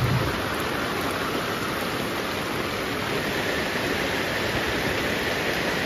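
Steady rain with wind in a rural village, a dense, continuous hiss that stays even and close throughout, with no voices.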